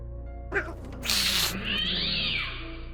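A cat lets out a sharp yowl, then a drawn-out, harsh caterwaul like a fight cry, close and loud over a low steady hum.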